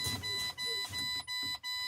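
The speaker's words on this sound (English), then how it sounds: "my audible and visual low air alarm activated" A truck's low air pressure warning alarm sounds, a steady, piercing electronic tone sounding continuously, with a low engine rumble and brief dips underneath.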